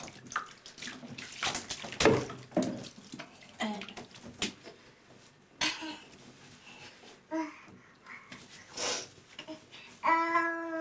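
Water gushes and splashes into a bath while a child is being bathed, steady running water mixed with babbling baby sounds and brief voices throughout, ending with a higher vocal cry.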